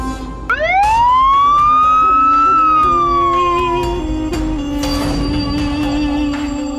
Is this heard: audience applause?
no